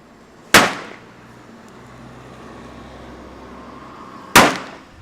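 Two sharp firework bangs set off outdoors, each a single loud crack with a decaying tail, spaced several seconds apart over a low background hum.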